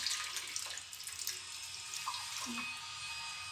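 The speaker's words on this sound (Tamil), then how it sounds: "இப்போது அந்த மசாலா அரைச்ச ஜாரில் தண்ணி ஊற்றிட்டு" Water poured into a masala grinder jar while cooking a Kerala-style fish curry with mango, a faint steady trickling splash running throughout at low level with no talk.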